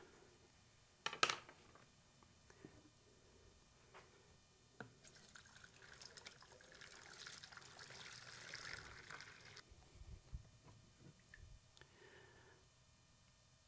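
Hot coffee poured in a knife-making workshop, a soft steady liquid trickle and stream running for several seconds, quiet and fairly close, with a few clinks and drips before and after.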